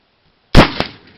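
A replica black powder breech-loading rifle chambered in .44 Henry fires a single sharp, loud shot outdoors, followed a quarter second later by a fainter echoing crack that fades into quiet.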